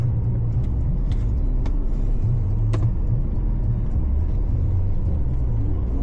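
Interior drone of a Honda Civic 1.5 Turbo cruising on a motorway at night, a steady low road and engine rumble with faint passing thumps, constant and close with no talking.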